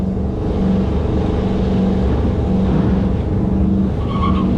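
A Barracuda drag car at the line at a bracket drag race, a loud close engine drone with a pulsing, tonal rumble held steady throughout, a faint higher squeal near the end.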